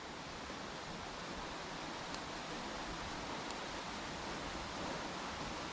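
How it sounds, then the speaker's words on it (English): River water runs at the bottom of a steep bank on the River Wansbeck, an even, continuous rushing hiss that fills the scene with no breaks. "You hear the water at the bottom running."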